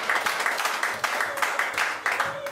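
A congregation at an evangelical church applauding: steady, dense clapping throughout, with a voice heard over it.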